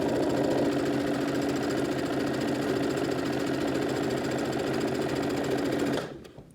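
A sewing machine stitches across a fabric face mask, its steady rapid whirring and needle chatter loud and close for about six seconds before abruptly winding down to stop.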